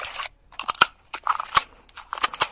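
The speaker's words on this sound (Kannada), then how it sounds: "ಮೂಳೆಗಳನ್ನು ತಿನ್ನುವಂಥ ಸೌಂಡ್ಸ್ ಇದು" A dog gnaws on bones, giving sharp crunching cracks in irregular clusters separated by short pauses, close and crisp with no voices.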